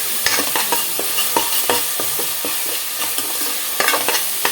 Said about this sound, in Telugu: ఇది కూడా కొంచెం పచ్చివాసన పోయేలాగా వేపుకుందాము.